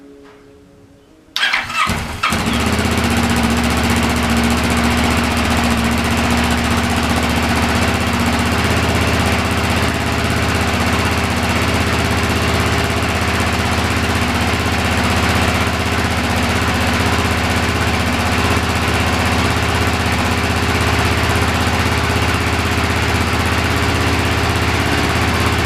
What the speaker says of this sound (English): The Street Fighter starts right up.